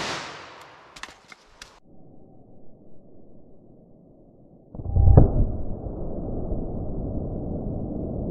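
A .357 Magnum revolver fires a jacketed hollow point into denim, clear ballistic gel and quarter-inch MDF; a single loud, sharp report lands mid-clip after quieter handling sounds, and a steady broadband rush of ringing or background noise follows.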